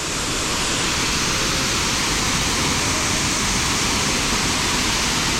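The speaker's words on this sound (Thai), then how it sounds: "เป็นน้ำตกตาดที่อยู่กลางป่ากลางดอยเนาะ" Loud, steady broadband roar of rushing water from a waterfall deep in a hillside jungle, close by and continuous with no breaks.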